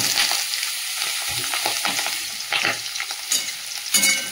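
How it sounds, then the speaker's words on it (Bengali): Cauliflower pre-boiled with salt and turmeric fries in hot oil, a crackling sizzle broken by scraping stirs and small clatters that swell louder near the end, with no talking. "আর এদিকে তেলটা গরম হয়ে গেছে, ফুলকপিটা আগে ভেজে নিই"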